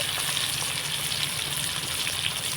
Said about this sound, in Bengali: টমেটো কুচিটা তেলের মধ্যে হালকা ভেজে নেব